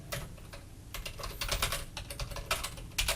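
Keys tapped on a computer keyboard while entering a search keyword into SEO software, a quiet, irregular run of close clicks in short bursts with brief pauses between them, with no speech.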